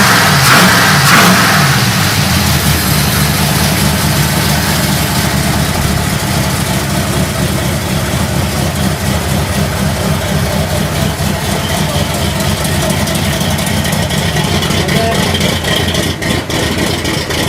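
A cammed V8 car engine, headed for a 1956 Cadillac Coupe DeVille LS swap, idles with a loping, choppy rhythm and blips of revving near the start, loud and steady throughout with no talk over it.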